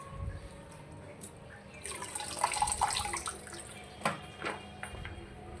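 Running water splashes and drips in a kitchen sink while leafy greens are rinsed, with uneven sloshing, handling clatter and a few sharp drips close by.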